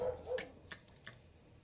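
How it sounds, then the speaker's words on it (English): A dog barks outside an apartment with an open window: three short, fairly faint barks spaced about a third of a second apart, sounding somewhat distant, with no talking. "Are you hearing this dog?"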